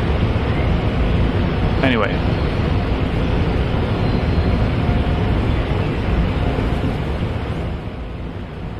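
Water rushing steadily through pipes once pressure returns, a loud, constant broadband hiss and roar that runs unbroken and eases slightly near the end, with a brief voice over it.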